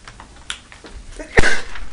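A single sharp sneeze bursts out in a meeting room during a committee session, loud and close against quiet room tone, followed by a brief exhale.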